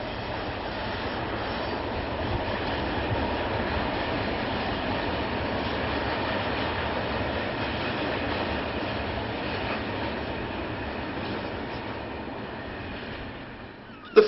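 A freight train on the Saltburn to Boulby branch rolls steadily past with a continuous, moderately loud rumble and faint wheel clatter, holding an even level throughout before a sharp click right at the end.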